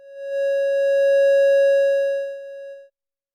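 Modular synth input signal fed to a wave rectifier, a steady pure tone that fades in, holds for about two and a half seconds and cuts off, with no talk.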